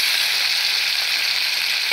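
Onions and tomatoes frying in oil for veg biryani give a constant, fairly loud crackling sizzle with faint stirring, close up and without any voices.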